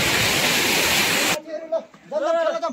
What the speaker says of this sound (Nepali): हेर्नुहोस् बाहुबली जस्तो झर्ना